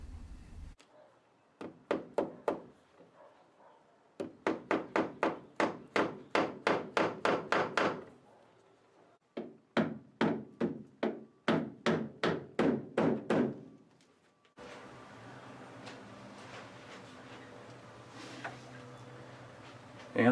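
Hammer blows driving nails into the roof of a 1930 Ford Model A during a repaint and interior job, struck in quick rhythmic bursts of sharp knocks separated by pauses, ending in a steady low rubbing noise.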